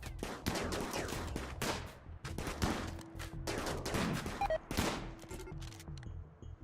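Colonists shooting in a RimWorld battle, with rapid bursts of gunfire and dense overlapping shots in quick volleys, close and continuous throughout, no talking.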